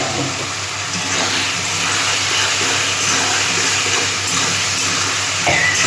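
Fried potatoes go into a sizzling cauliflower curry masala for a cauliflower and potato jhol, producing a loud, continuous hissing sizzle up close that holds steady for several seconds without speech.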